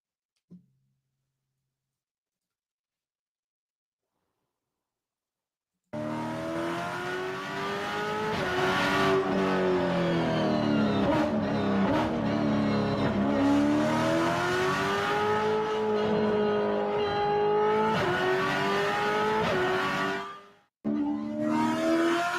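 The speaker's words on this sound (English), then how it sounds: "We do have a little sound bite here of what the Mustang sounds like." A new Ford Mustang engine revving after a few seconds of silence: a loud, close, sustained roar rising and falling in pitch through repeated throttle blips, dropping out briefly near the end, with no talking.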